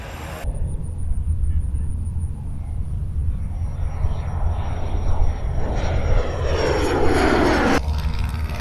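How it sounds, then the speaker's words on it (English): An L-39 Albatross jet at an air race takes off with a steady, loud engine roar that builds and swells as it accelerates down the runway, cutting off sharply near the end. "you're about to see the L-39 Albatross take off, and he is going to take off"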